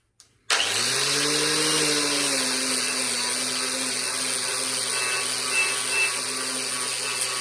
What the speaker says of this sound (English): This is what I mean by biscuit wheel. It's just a paint stripping disc